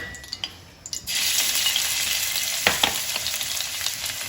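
Ginger and garlic sizzle hard in plenty of hot desi ghee for a tadka. A few light clicks come first, then a loud, steady frying hiss sets in with occasional stirring scrapes, close and with no talk.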